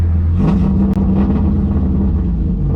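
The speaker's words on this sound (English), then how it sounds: "Not running very smoothly. It's missing a lot, and it's really hard to drive." Engine of a Saab Sonett misfiring and running rough, a close, loud, uneven rumble with irregular stumbles and surges, heard alone.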